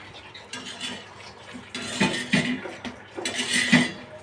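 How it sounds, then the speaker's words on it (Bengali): Roti being flipped and handled on a hot pan gives a few light metallic clinks and scrapes of a utensil against the pan, spaced out irregularly and fairly close, with no talking. "রুটিটা আগে উল্টায় দেই।"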